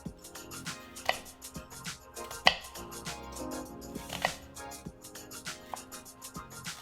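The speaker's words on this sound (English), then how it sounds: "You're gonna chop it like you would an onion." A knife chops a banana shallot finely on a cutting board, giving a quick run of crisp, irregular taps and knocks, some sharper than others, close and fairly quiet with no talking.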